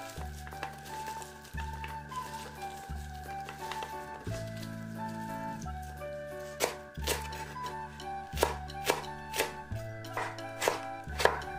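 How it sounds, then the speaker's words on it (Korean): A knife julienning carrots for japchae (Korean glass noodles) strikes a cutting board in a steady series of close, crisp chops, with faint kitchen background between strokes. "당근 역시 채 썰기입니다."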